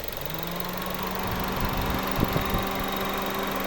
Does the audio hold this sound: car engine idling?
yes